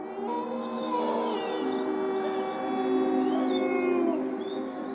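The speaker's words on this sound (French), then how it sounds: "Le hurlement d'un loup peut être terriblement inquiétant." Wolves howling in long, wavering, overlapping cries that rise and fall together, a steady sustained chorus heard loud and close with no talk over it.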